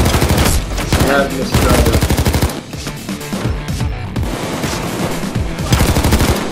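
Enemy gunfire in the video game Payday 2, dense bursts of automatic weapons fire and overlapping shots, loud and nearly continuous, while players talk over the barrage.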